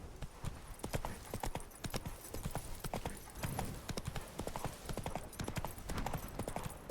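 The horse Roach trots in a video game, hooves clip-clopping in a brisk, even rhythm that carries on steadily and close up, with no talking.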